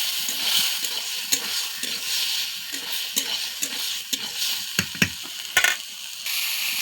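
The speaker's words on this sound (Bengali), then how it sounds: "এই যে হয়ে গেছে মশলা কষানো" Spices stir-fried in a pan for a taro-leaf curry, a steady bright sizzle with repeated scraping strokes of a spatula and a few sharp clinks, close and continuous with no talk.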